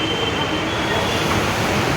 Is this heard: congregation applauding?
no